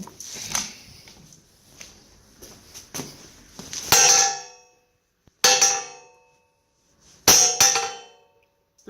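A hammer rings sharply against a cheap homemade anvil, three loud metallic clangs spaced about two seconds apart, each with a bright ringing decay, after a stretch of quieter handling noises.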